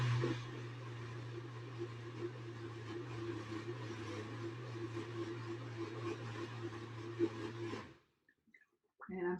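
A blender grinds paper pulp for handmade paper, giving a steady, laboring motor whine with a low hum for about eight seconds before cutting off, followed by a faint rattle.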